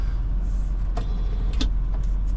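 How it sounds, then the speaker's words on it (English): A power rear vent window on a 2001 Mercedes-Benz ML55 AMG whirs and clicks softly inside the cabin, with a couple of brief mechanical thunks over a low steady hum. "you have the rear windows that vent."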